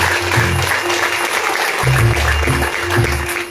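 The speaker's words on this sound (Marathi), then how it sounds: "स्मितासाठी एकदा जोरदार टाळ्या झाल्या." An audience at a Marathi music program claps loudly and steadily, a dense burst of applause heard alone for a few seconds.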